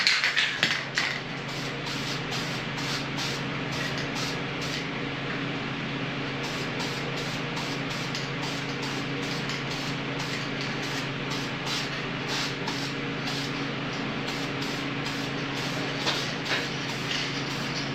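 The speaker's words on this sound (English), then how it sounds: "I grabbed a couple cans of this Duplicolor engine enamel. We're gonna hit it with that, just a nice gloss black" Gloss black Duplicolor engine enamel spray-painted onto a 6.0L LY6 engine block, heard as a steady close hiss of aerosol spraying that runs continuously with short bursts and pauses, with no talking.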